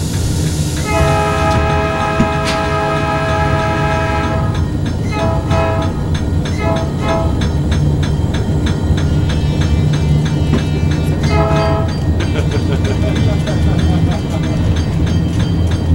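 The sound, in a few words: train riding on the Kewaunee Division rails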